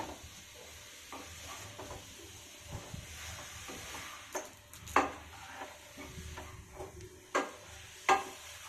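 Chicken pickle mixed with salt and turmeric is stirred in a pot, giving quiet scraping and soft wet squelches in irregular strokes, with a few sharper clinks near the end and no speech.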